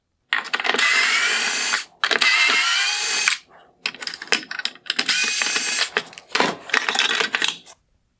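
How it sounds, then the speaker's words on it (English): Power driver backing out two T20 Torx screws from the lower projector mount of an outer LED projector in a 2019-2021 BMW X7 LED headlight, with loud close whirring bursts separated by short pauses and small clicks. "I'm going to remove the two T20 torx screws holding on the lower projector mount for this outer LED projector"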